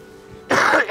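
A single harsh cough, close and loud, breaking abruptly out of quiet with a second shorter burst right after.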